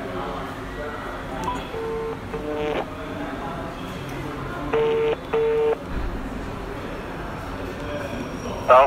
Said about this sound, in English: Call him, put the phone on loudspeaker, and give it to me.